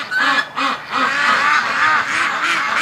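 Geese and ducks in a farm pen, including Muscovy ducks, honk and quack loudly and close by in a dense, overlapping chorus of repeated calls, rising and falling in quick bursts without pause.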